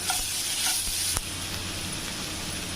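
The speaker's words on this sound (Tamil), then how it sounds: "வெங்காயம் வதங்கினதுக்கப்புறம் இஞ்சி பூண்டு பேஸ்ட் போட்டுக்கலாம்." A steady, close sizzle of ginger-garlic paste frying with onions in a pan, with a brief stirring knock partway through.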